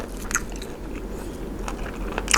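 Crisp crunching bites of fried frog, a few sharp crackles at the start and a louder burst at the end, close up with no talking.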